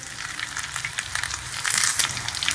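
Methi paratha brushed with ghee sizzles on a hot tawa, a close crackling fry with bright spitting bursts that swell louder toward the end; no one speaks.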